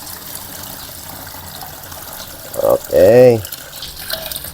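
Running water gushes and trickles as a second batch of leaves is washed for cooking, steady low flow rising into a brief louder pour, with a person speaking briefly.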